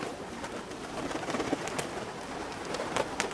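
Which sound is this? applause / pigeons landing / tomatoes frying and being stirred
pigeons landing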